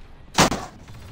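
A single sharp blaster or gun shot cracks out once from Star Wars Battlefront 2 gameplay, loud and brief against quiet background noise.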